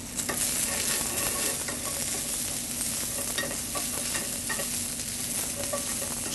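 Asparagus sautéing in rosemary-infused olive oil in a pan, a steady bright sizzle with scattered pops and stirring scrapes, fairly soft and without talk.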